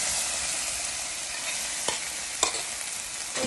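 Yellow lentil dal with an asafoetida tempering is stirred in a pot over a steady sizzle, with a few soft spoon scrapes standing out near the end and no voices.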